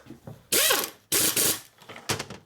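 Ratchet wrench clicking through several bursts while snugging the center case bolts on a 2001 Indian Scout engine with an 88ci S&S big-bore Evo motor during a rebuild; three loud, close ratcheting runs separated by short pauses.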